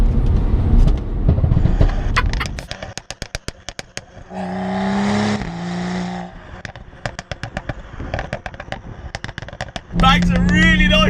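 Sharp pops and bangs crackle from the exhaust of a modified 390 bhp BMW 135i hatch, a fast run of loud close cracks between bursts of high engine revving, with someone talking over parts of it.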